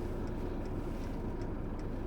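A Chinese diesel night heater in a stealth camper van runs with a steady, close blowing roar, while faint, regular clicks tick over it at a quick even pace.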